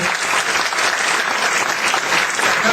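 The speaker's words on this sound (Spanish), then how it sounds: "Pido un aplauso para Felipe." Steady, dense clapping from a crowd, loud and continuous throughout with no pauses or voices standing out.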